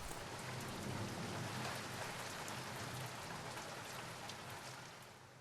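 Steady heavy rain pours down in a dense, continuous hiss, easing slightly toward the end.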